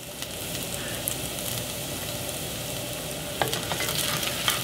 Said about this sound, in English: I'm gonna stir fry for 5 to 6 minutes